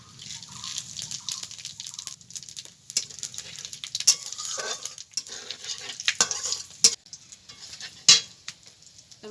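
Cumin, dried red chilli and bay leaf tempering in mustard oil in a wok, a soft steady sizzle with scraping stirs and a few sharp clicks of a spoon against the pan.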